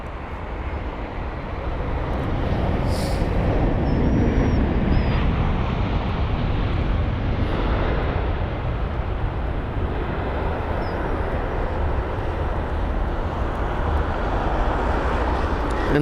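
A steady, loud broadband roar from an Etihad Airways Airbus A380 departing London Heathrow holds constant for the whole stretch, with faint wind noise and no talking.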